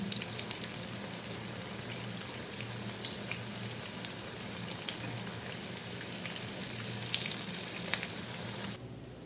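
Soft crackling sizzle of an egg and onion snack frying in a pan, continuous and fairly quiet with faint pops, no voices.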